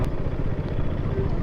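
A motorcycle engine rumbles steadily at close range at a trade fair, a low continuous growl with some mechanical clatter and no voices.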